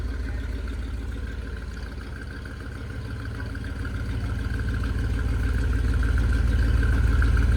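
A 1962 Ford Thunderbird V8 running with both mufflers fitted, a steady low rumbling idle that slowly grows louder and fuller across the clip, close by with no talking.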